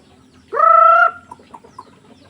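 A chicken gives one loud, drawn-out squawk close by, followed by a few softer clucks.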